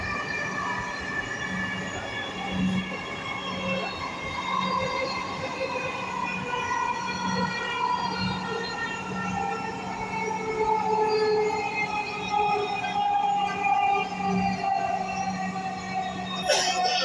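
Dhaka metro rail train running between stations, with a steady motor whine and rolling rumble inside the carriage, faint rhythmic thumps, and a brief sharp noise near the end.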